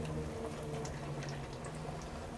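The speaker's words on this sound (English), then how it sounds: "That is boiling up awful high." Potatoes frying in a pan of hot oil that is bubbling up high: a dense, continuous hiss and crackle of boiling oil, close and steady, with scattered sharper pops.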